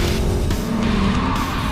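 A Factory Five kit race car, built in a home garage with rigid chassis and tight racing suspension, skids at top speed, tires squealing over a loud engine roar in one continuous, close rush.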